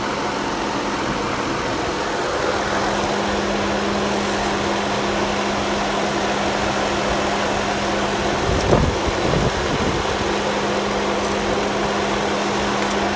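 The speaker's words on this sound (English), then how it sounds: "Listen to the engine." A donated sedan's engine runs steadily in a continuous mechanical hum with a sustained low drone, broken by a brief disturbance about two-thirds through.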